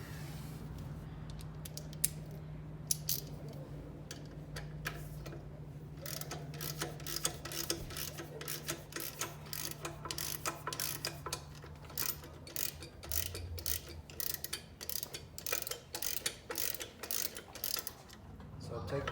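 Hand ratchet loosening the two 12mm bolts on the rear parking brake bracket of a Yamaha Raptor 700 ATV, a run of quick clicking ratchet strokes close by, steady through the clip over a low hum.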